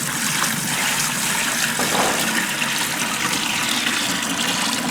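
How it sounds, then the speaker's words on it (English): Water is poured steadily into the tank of a 3000 W water fog machine, a continuous close rushing splash with no pauses. "Now we add water inside the water tank."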